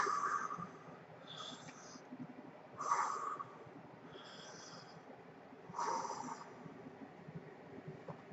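A voice imitates the heavy breathing heard over a horror film's end credits, with several slow, raspy breaths spaced a few seconds apart, close and fairly quiet.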